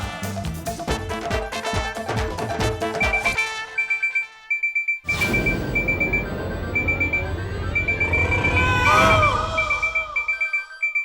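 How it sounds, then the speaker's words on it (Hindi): A shrill alarm clock beeps in a rapid repeating pattern over busy music and noise, loud and continuous through most of the stretch. "अलार्म अलार्म की आवाज कहां से आ रही है?"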